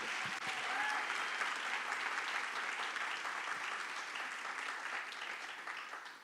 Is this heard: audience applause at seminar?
yes